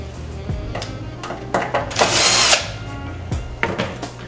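A power drill or driver backing out two screws from an Akai MPC 60 sampler case, with short whirring bursts, one longer high-pitched spin and small clicks between them, close and clear with no talking.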